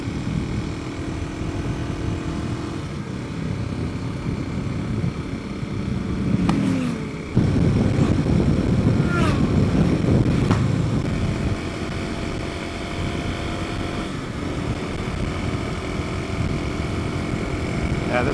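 Kawasaki KLX 300 motorcycle accelerating, a steady engine drone heard from the rider's position with wind rush, getting louder and rougher partway through as the engine pulls harder.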